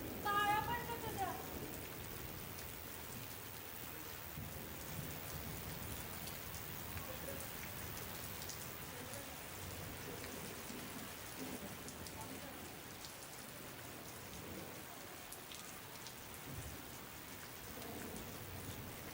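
Heavy rain pours down in a steady, dense hiss with occasional rumbles of thunder, continuous and enveloping, with faint voices in the background at times.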